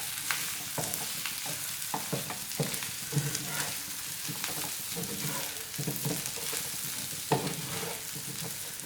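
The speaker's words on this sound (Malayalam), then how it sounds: "ഇനി ഇത് നല്ലപോലെ തന്നെ ഒന്ന് ഇളക്കി ഇതൊന്ന് ഫ്രൈ ചെയ്തെടുക്കാം" Tawa chicken masala stirred and fried on a tawa, a constant close sizzle with frequent scraping and tapping strokes of a spatula, no voices heard.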